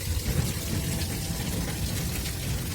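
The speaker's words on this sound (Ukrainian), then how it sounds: "зливаємо рідину." Engine coolant pours from the unscrewed drain bolt of an engine block, a steady, close splashing trickle of liquid that runs continuously with no talk over it.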